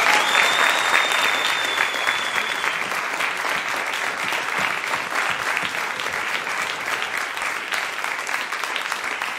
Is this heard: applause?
yes